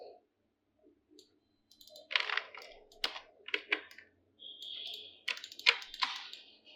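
Keys clatter on a computer keyboard in short, irregular bursts of clicks, close and fairly quiet, with gaps between runs of typing while text for a round rubber stamp seal design is entered.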